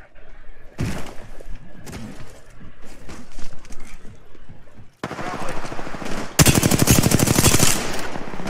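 Automatic weapon fire in the battle royale shooter Apex Legends, played as Crypto, with scattered shots early on and then a dense, loud sustained burst of rapid fire in the second half.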